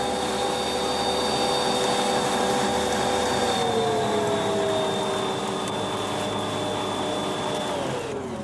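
A Bosch stand mixer whips cake batter with a steady, close motor whine that drops in pitch partway through as the speed is lowered, the beaters droning continuously without talk.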